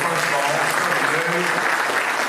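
A conference audience at a technology showcase applauds, a dense, steady clapping that continues throughout, with a voice speaking briefly over it.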